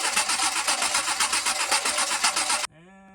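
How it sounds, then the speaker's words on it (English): A stroker engine cranks over with a compression tester fitted, the starter churning in a steady, loud, pulsing rhythm for about two and a half seconds before cutting off abruptly into quiet. "Gonna go ahead and crank the motor over now."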